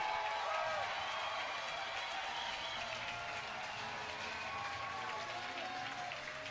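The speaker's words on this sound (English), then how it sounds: "Listen to that crowd." Stadium crowd at an international rugby match between Canada and Russia cheers and applauds steadily as the teams take the field, a dense, sustained roar of clapping and voices throughout.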